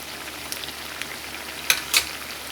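Oil sizzles continuously in a pan as carrot pitha fry, with a couple of sharper crackling bursts near the end.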